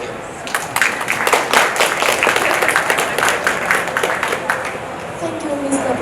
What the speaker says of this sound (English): Please give him another round of applause, guys.